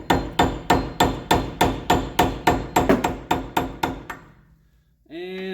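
A hammer strikes the front hub dust cap of a 1977 Toyota Celica, about a dozen quick ringing metallic blows in a steady rhythm close by, then a short voice after they stop.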